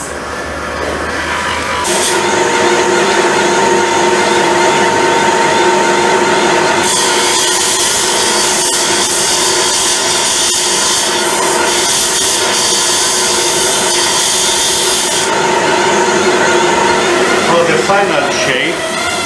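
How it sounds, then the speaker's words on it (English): A carborundum grinder smooths the edges of cut stone, giving a loud, steady abrasive whine with a rasping hiss that continues almost without pause. "Final shape, we went around the edges with this machine here, carborundum, a grinder. We smooth them down."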